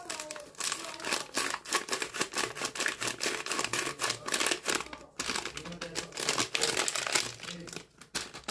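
A packet of whipped cream powder crinkles and crackles steadily up close, with dense rustling and brief pauses, and no talking.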